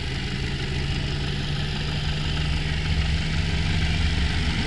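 A used 2018 Alfa Romeo Stelvio with a turbocharged four-cylinder and 125,000 miles idles steadily under the open hood, a close, even mechanical hum and whirr with no voices.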